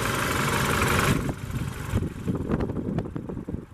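BMW 2-liter TwinPower turbo four-cylinder in a 2012 BMW 328i running steadily at idle, a constant close mechanical hum with no talk over it.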